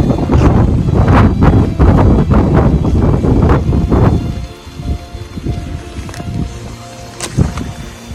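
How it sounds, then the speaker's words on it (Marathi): Strong wind on the Nakhind mountain ridge buffets the microphone in loud, roaring gusts, then eases to a lower rush. "वारा इथे खूप जोराचा आहे."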